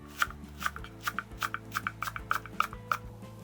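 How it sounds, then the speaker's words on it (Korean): Garlic chives being cut into short pieces with a kitchen knife on a cutting board, a quick run of crisp, evenly spaced chops, close and fairly quiet. "이 부추는 너무 길게 썰면 안 되고요. 작게 썰어야 됩니다."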